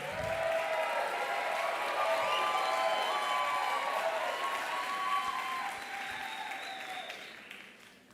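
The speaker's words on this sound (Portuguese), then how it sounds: "Muitas palmas" An audience at a talk on reading and mediation applauds as panel speakers are introduced. The clapping is dense and sustained for about seven seconds, then tapers off, with faint voices mixed in.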